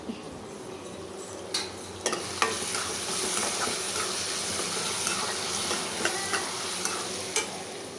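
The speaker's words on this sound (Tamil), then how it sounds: "கொஞ்சம் அதையும் ஃப்ரை பண்ணிக்கலாமா?" Fish fries in a pan with a steady, close sizzle and crackle, punctuated by occasional clinks and scrapes of a utensil stirring against the pan.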